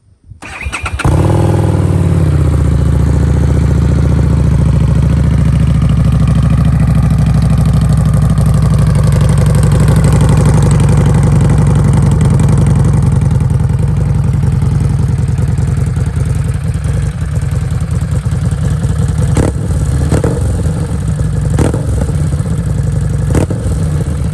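A Harley-Davidson Street XG750 motorcycle engine cranks, catches and settles into a loud, steady idle that runs close and continuous, with a few faint clicks and knocks near the end.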